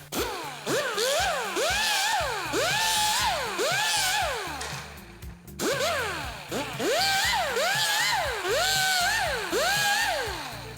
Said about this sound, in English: I'm just gonna clean up the edges, deburr them a little bit.